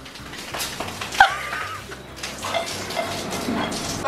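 A pop followed by fizzing, splashing liquid spraying out, with excited voices and laughter nearby.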